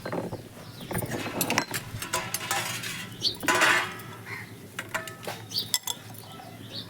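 Cooked bhogi vegetable dish being served onto a plate, with repeated light clinks and scrapes of metal utensils and dishes, fairly close and moderately loud, with no talking.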